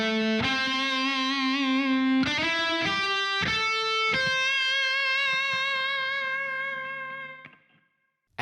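A clean-toned electric guitar plays a slow solo, a handful of picked notes with wavering vibrato on the held ones, the last note ringing out and fading to silence.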